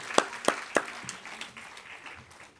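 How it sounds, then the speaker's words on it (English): A few sharp claps ring out, then a scattered, thinning round of applause fades quickly in a fairly quiet room during a keynote talk. "So please give me a big applause for Dr. Bhavani"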